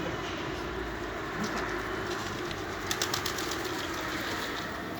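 Pigeons on a high rooftop in Gaziosmanpaşa, Istanbul, with a brief flutter and soft cooing over a steady background rumble of distant engine or city noise.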